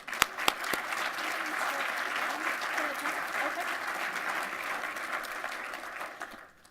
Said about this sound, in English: If we could all give them the rousing applause they deserve.